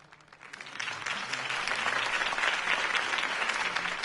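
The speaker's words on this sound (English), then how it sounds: "If only Mr. Wayne, my campaign's largest backer, could have heard that applause" Steady crowd applause from a video game, Batman: The Telltale Series, many hands clapping in a dense wash that swells up in the first half second and then holds at a moderate, even level.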